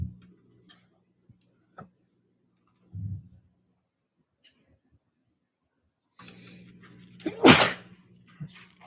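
A single sharp sneeze bursts out near the end, after mostly quiet background with a few faint knocks and a low hum.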